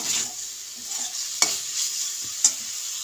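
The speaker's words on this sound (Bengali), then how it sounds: "মাংসটা আমি ভালো করে ভেজে নেব" Chicken pieces fry and get stirred in hot oil with chicken curry masala in a pan, a constant close sizzle broken by two sharp spatula scrapes against the metal, with no talk.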